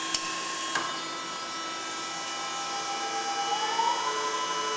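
A Denn RPI 300 CNC hydraulic spinning lathe runs a program, with a steady mechanical whine and hum, a few sharp clicks early on and a rising tone as the axes move. No one talks.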